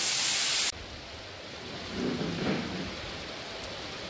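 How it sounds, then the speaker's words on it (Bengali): Steady rain hiss, loud at first and then softer, with a low distant rumble swelling briefly in the middle. "এই দেখো বৃষ্টি হচ্ছে"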